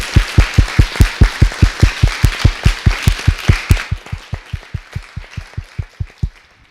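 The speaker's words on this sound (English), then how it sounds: "So can we give them a round of applause and thank them?" Audience at a panel discussion clapping in a steady, fast rhythm, loud and close for several seconds before thinning out and stopping.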